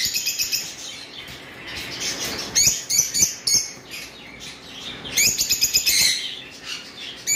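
Caged lovebirds, a breeding pair among birds offered for sale, chirp in rapid bursts of shrill high tweets, close and busy, with brief pauses between flurries and no talking.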